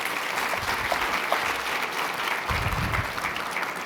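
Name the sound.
audience applause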